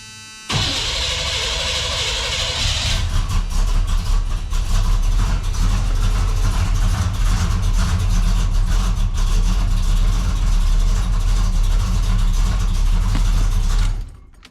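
A 1979 Chevrolet El Camino engine cranks, catches and settles into a loud, steady rumbling idle close by, then cuts off at the end.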